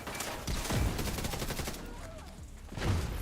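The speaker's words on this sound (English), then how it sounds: "See all the explosions? That's from my craziness build that I got going on." Rapid bursts of gunfire and explosions from a Division 2 shooter game with a chaotic explosive build, a dense, loud volley of cracks and booms that is heavier near the start and again at the end.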